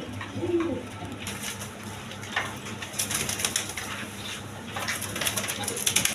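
Colouring Gorra pigeons at a pigeon sale, cooing in soft, repeated low calls with occasional wing flutters amid background bustle; no talk.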